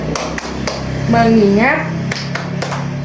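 Children clapping a rhythmic classroom focus chant, a few crisp claps spaced through the clip while a voice speaks and sings over them.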